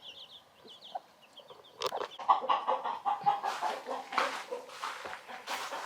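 Backyard chickens, including a broody hen, cluck and squawk close by, starting with a few soft calls and then growing into a loud, busy stretch of overlapping clucks.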